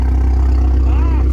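A Volkswagen Scirocco race car idles at the Nürburgring, a loud, steady low engine rumble with a faint whine rising and falling near the end.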